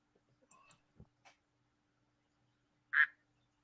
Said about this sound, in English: Why are we still hearing ducks?